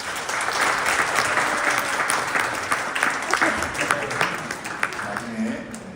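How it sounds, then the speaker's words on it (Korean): A church congregation at a Sunday worship service breaks into applause right after a prayer, sustained clapping with a few louder individual claps standing out near the end. "우리 박수를 한번 드리겠습니다."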